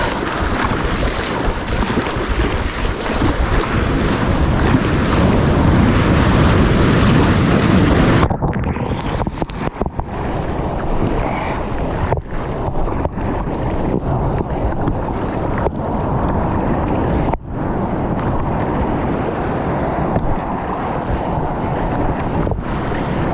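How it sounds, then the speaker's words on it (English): Small waves wash and slap around a sailing dinghy at sea, a steady broadband rush of water mixed with heavy wind buffeting on the microphone, continuous and fairly loud with no talking. "Mini waves."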